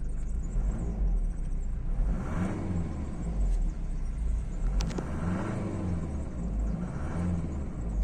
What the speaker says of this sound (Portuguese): Esse motor é diesel, então ele tem esse barulho bem característico